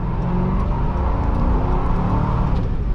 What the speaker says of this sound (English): Well, that was all wheel spin right there.